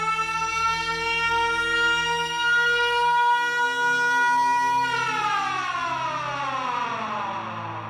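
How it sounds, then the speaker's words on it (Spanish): A loud civil defense siren wails steadily, its rising tone shifting pitch midway and sweeping down, with no voices over it. "Las sirenas se volvían más estrepitosas, pero con pausas entre cada pulsación."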